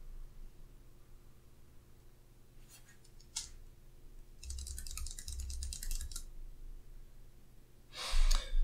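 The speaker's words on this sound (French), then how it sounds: "je peux ajouter un mémo, et je peux taper" Keys tapping on a keyboard connected to a smartphone through a USB OTG adapter, typing a short memo: a few light clicks, then a denser burst of typing and a final louder flurry, close and quiet.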